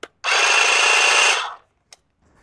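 A GarveeTech cordless hedge trimmer with 22-inch blades runs in a loud, steady burst of buzzing for just over a second, then winds down, followed by a brief click and quiet.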